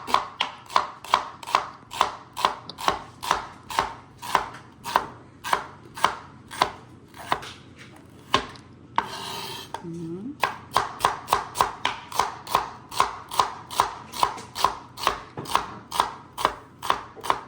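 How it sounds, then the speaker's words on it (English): A knife slices shallots on a cutting board in a steady run of sharp, evenly spaced close chops, with a brief pause and shuffle midway before the rhythmic cutting resumes. "then I'm gonna slice the shallot, and this is just used to stir fry the bamboo"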